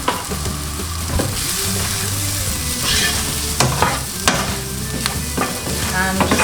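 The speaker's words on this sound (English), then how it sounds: "And just stir that for around 3 to 4 minutes, 5 minutes maybe." Vegetables seasoned with salt and pepper are stirred and fried in a pan, a loud close sizzle punctuated by repeated clattering scrapes of the utensil against the pan.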